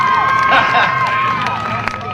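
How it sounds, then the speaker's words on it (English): A short burst of crowd cheering at a motorsports race awards gathering, with whoops, high shouts and whistles over scattered clapping, lively and fairly close. "Let's have a nice round of applause for this guy."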